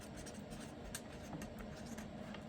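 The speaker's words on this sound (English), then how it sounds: "so I'm gonna write" Faint, close scratching of a pen or pencil writing by hand, a run of small irregular strokes and taps on paper in a quiet room.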